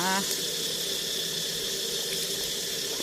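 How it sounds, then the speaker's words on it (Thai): Water pours steadily from a tap during a child's bath, a constant close rush filling the whole stretch, with a brief voice right at the start. "น้องจันเจ้านะคะ ตื่นเช้ามาอาบน้ำนะคะ"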